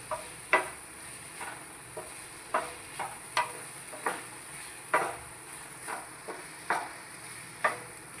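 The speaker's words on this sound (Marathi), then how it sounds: "हा पास्ता आपल्याला व्यवस्थित हलवून घ्यायचा आहे" A spoon stirs pasta through oily gravy in a pan, giving soft irregular scrapes and taps against the metal roughly every half second over a faint constant hiss, close but quiet.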